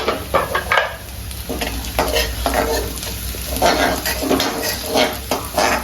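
Jhunka being stirred and mixed in a pan, with steady scraping and sizzling strokes of a spoon against the metal in an uneven rhythm, close and fairly loud.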